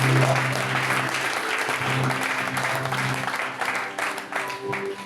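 A church congregation applauds and cheers for Jesus in continuous, dense clapping with crowd acclamation, loud and steady throughout with a low sustained hum beneath.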